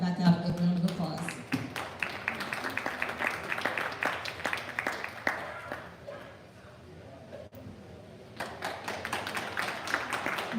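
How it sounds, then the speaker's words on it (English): Applause for the kids at a livestock stock show, scattered hand claps from a modest crowd that thin out midway and pick back up near the end, with some talk mixed in. "give every one of these kids that showed up today to come back out a big round of applause"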